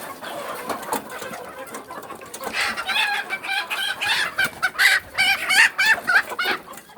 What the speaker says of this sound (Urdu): آپ دیکھ سکتے ہیں یہ مرغیاں ہیں میرے